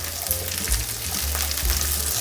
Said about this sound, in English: Next, I'll be going in with my chopped onion. I'll also give this a good stir.